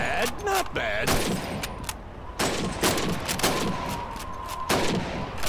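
Rifle shots at a shooting range in the video game Call of Duty 2, with a series of sharp cracks spaced a second or so apart, with brief voice fragments and background ambience between them.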